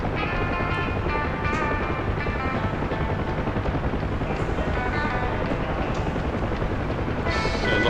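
A UH-1 Huey helicopter in the DCS flight simulator drones steadily throughout, a dense continuous rotor and turbine roar with no break in level and no talking.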